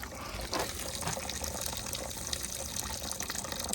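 Maple syrup pours steadily from a big pan into a filter set in a pot, a continuous liquid gush and splash close by with no talking.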